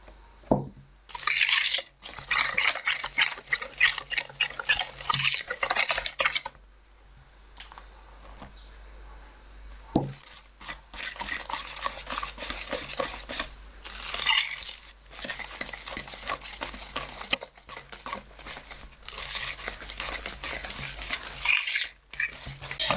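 A spoon or whisk scrapes and stirs cake batter in a bowl in repeated bursts of clinking and swishing, close and fairly quiet, separated by short pauses, with no talk.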